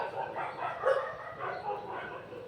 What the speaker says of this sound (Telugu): కొత్త కుక్కలు రాగానే పాత కుక్కలన్నీ వాటి మీద పడి అరుస్తూ ఉంటాయి